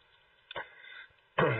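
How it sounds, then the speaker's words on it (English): A brief throat clearing, a short rasp followed by a louder, gruffer clearing burst, close and otherwise quiet. "Sorry, just had to clear my throat there."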